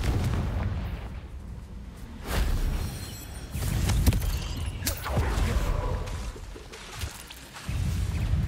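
Spell blasts from the Hogwarts Legacy video game, a series of heavy booming explosions and bursts with crackling tails, loud and close, repeating every second or two across the stretch.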